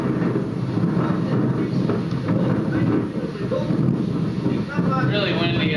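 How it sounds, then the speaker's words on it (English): Constant loud wind buffeting and rumbling across the microphone outdoors at sea among shearwaters, unbroken throughout. "Really windy out there."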